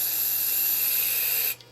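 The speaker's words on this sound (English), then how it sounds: "So we have our clear acrylic sealer." Clear acrylic sealer sprays from an aerosol can in a single steady hiss for about a second and a half, close and loud, then stops abruptly.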